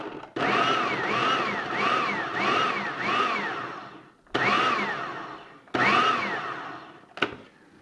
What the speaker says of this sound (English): we're going to chop them up in our food processor